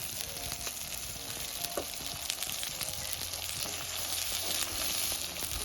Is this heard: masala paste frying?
yes